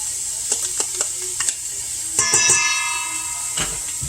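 Ground turkey meatloaf mixture with yogurt gets mixed in a bowl, giving a few close taps and clinks of a utensil, then a brief squeaky scrape, with no voices.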